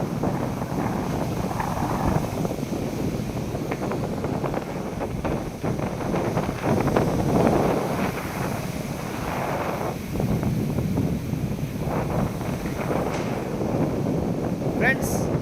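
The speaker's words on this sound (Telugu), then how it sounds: "గాలి అలల సౌండ్ మంచిగా ఉంటుంది." Sea waves and gusting wind on Kanyakumari beach form a continuous loud rushing wash with rolling surges, wind buffeting the microphone, and indistinct voices in the background.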